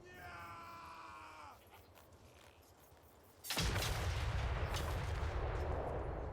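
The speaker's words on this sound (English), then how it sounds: "I'm using a mod in Total War Warhammer to use World War I equipment. Check it out. We got modern artillery." World War I artillery fired in a Total War Warhammer 3 mod, a sudden loud blast midway that rolls into a heavy, sustained rumble of distant shelling and gunfire, after quieter battle ambience with faint screams.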